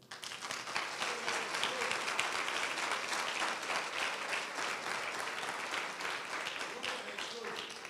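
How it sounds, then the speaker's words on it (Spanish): A church congregation at a Spanish-language sermon applauds in a sustained, fairly distant wash of clapping that rises quickly and holds steady, with voices calling out underneath. "dele un aplauso al Señor"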